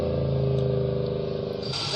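A car engine runs on hydrogen-oxygen gas from a vacuum HHO generator, idling with a steady, close, pulsing hum that shifts slightly near the end.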